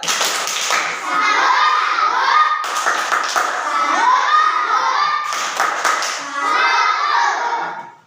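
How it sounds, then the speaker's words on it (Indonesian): A school class gives a rhythmic salute clap for a student group, bursts of patterned hand claps mixed with children's chanting voices, repeating in three close, lively sections. "Kita beri tepuk salut untuk kelompok 4"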